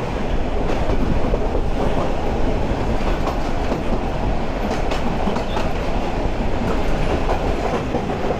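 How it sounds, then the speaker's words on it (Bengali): A shuttle train runs on its rails while taking a right-hand curve, a loud, steady rumble with rhythmic wheel clatter and faint squeals from the wheels, close and continuous with no voices. "ট্রেন ডাইনে কার্ভ নিচ্ছে।"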